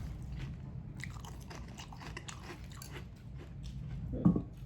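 General Mills Cinnamon Toast Crunch cereal is crunched close to the mic in steady, crisp bites over a low background hum, ending with one louder crunch.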